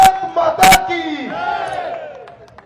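A large crowd at an election rally shouts back a chant in unison, a loud massed roar that swells and then trails off, after a couple of sharp bangs and claps at the start.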